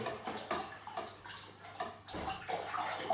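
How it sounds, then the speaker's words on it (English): Wine kit must with sugar is stirred vigorously in a fermenting bucket, giving continuous sloshing, swirling liquid with rhythmic surges, close and fairly loud, with no speech. "I've got to give this a good mix, sort of vigorously, make sure all the sugar and everything is mixed in"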